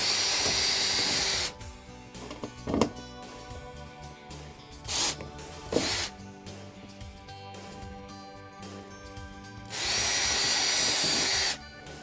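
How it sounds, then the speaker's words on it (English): A power drill whirs loudly into a wooden fascia board, drilling two small holes in two separate bursts, one at the start and one near the end, with quieter handling noises in between. "we need to drill two small holes in the fascia board"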